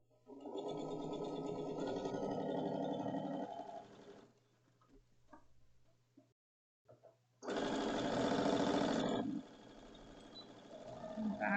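Sewing machine back-stitching the seam of a pillow, running in two loud bursts of steady mechanical whirring separated by a brief quiet pause, with faint voices in between.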